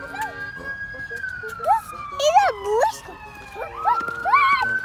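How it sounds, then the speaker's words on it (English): An ambulance siren wails and yelps through a busy New York street near a heavily trafficked bridge, its pitch sweeping up and down over a constant low rumble of city traffic. "That's an ambulance siren."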